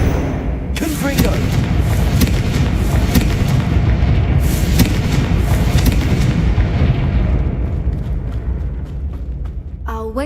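A Confringo blasting spell in Hogwarts Legacy goes off as a loud, sustained game explosion, with dense booming blasts and rumbling debris filling about ten seconds and a sharp crackle near the end.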